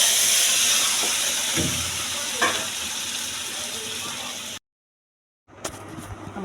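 Cumin seeds sizzle in a pan of hot oil, a steady close frying hiss with a few small crackles, cutting to silence before the sizzle resumes briefly.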